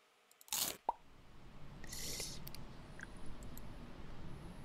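A cat crunches kibble in the game Mon Bazou, with a sharp clatter of food being poured, then soft, quiet crunching and chewing that continues faintly against low background hiss.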